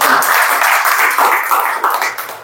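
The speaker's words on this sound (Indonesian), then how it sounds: "tepuk tangan dong buat." An audience at a hypnosis show applauds together, a dense, steady wash of many hands clapping nearby that gradually tapers off toward the end.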